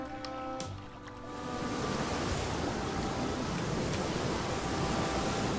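River water flows in the survival game The Flame in the Flood, a broad steady rushing wash that swells after a quieter opening moment and continues unbroken, with no speech.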